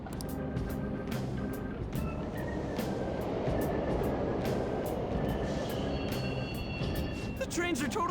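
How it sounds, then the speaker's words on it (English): Subway trains running in the Persona 5 Royal video game, a continuous loud rumble and rattle of rail cars with faint metallic squeals and clicks over the top, no talk. "The trains are totally running!"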